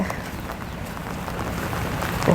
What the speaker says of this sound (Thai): ฝนตกมาอีกละ